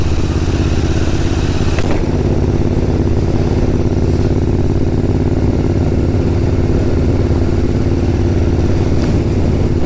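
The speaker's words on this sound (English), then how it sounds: "It doesn't like slogging, this bike, doesn't it?" Steady, loud engine drone of an Interceptor motorcycle being ridden at low revs, a continuous throbbing rumble with a few faint clicks, no voices.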